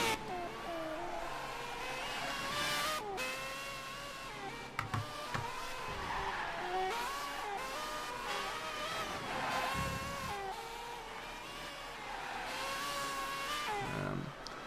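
An R35 Skyline race car in a racing video game lapping the Monaco circuit, engine note rising and falling through gear changes with brief sharp shifts and skids, continuous and fairly close with no talking.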